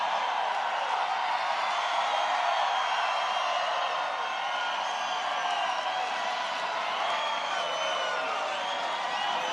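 A large crowd at a political rally in Des Moines, Iowa, cheering and whooping in a continuous, dense roar that holds steady at full volume throughout.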